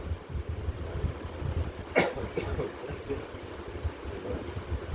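A single short cough rings out around the middle, over steady low background rumble and faint noise.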